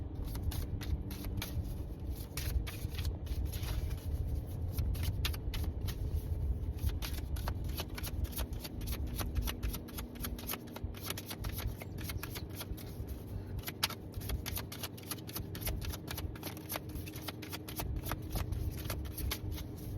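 Tarot cards are shuffled continuously for twenty seconds, a dense, crisp riffling patter close to the microphone over a low steady background hum.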